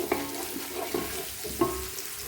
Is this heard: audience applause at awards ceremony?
no